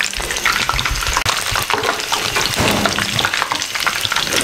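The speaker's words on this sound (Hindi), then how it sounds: "ये सारे मैं इस तरीके से फ्राई कर लूँ इस कलर में" Chicken pieces for a sandwich fry in hot oil, a loud, continuous crackling hiss with busy popping texture and a brief sharp clink early on.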